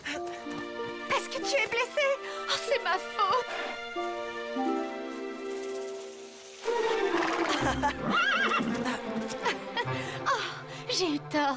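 A cartoon horse neighs and whinnies in bursts over a music score, with light hoof clip-clops, in an animated Yakari adventure with the Plains tribe.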